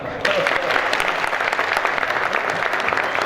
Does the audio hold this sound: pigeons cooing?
no